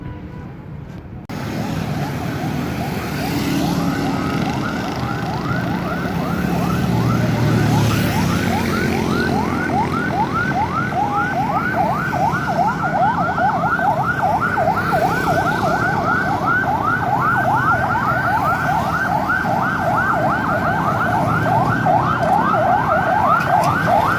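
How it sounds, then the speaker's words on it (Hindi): An ambulance siren wailing in a steady, repeating rising-and-falling pattern as it moves through traffic on a road in Karachi, loud and continuous over engine rumble and street noise. "एम्बुलेंस का रास्ता दिया जा रहा है"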